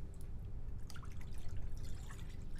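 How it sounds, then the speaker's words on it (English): Water pours into the tank of a Decent Espresso DE1 espresso machine, an irregular close splashing and dripping trickle over a low hum, with no talking. "Now it's time to fill the water tank."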